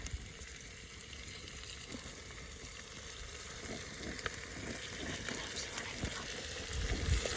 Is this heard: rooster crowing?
no